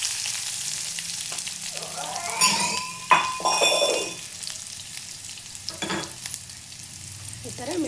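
Chopped onion and cumin fry in a pan, a close sizzling hiss with scraping stirs and light clinks of a utensil against the pan, no talk.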